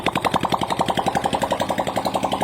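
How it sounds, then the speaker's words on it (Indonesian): A rapid, rough motorcycle engine putter, like a Honda Astrea with a broken, cut-off exhaust, pulses steadily, loud and close, with a rattling, unmuffled exhaust beat. "ini kayak motor Astrea tapi knalpotnya itu puntung"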